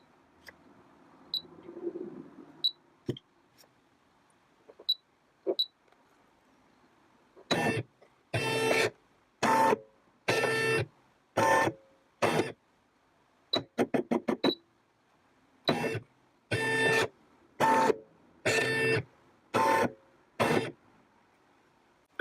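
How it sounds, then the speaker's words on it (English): Home sewing machine stitching a winter-themed applique, heard as a regular series of about a dozen loud mechanical bursts, each roughly half a second long with short pauses between them, after a quieter opening with a few light clicks and taps. "Then we can come on over to the sewing machine."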